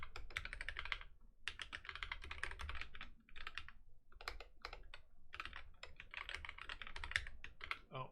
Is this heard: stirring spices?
no